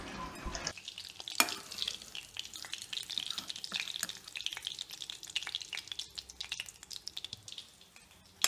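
Chicken pieces fry in hot oil in a wok for chicken kabab, a steady close sizzle with crackling pops and occasional stirring scrapes throughout, no voices.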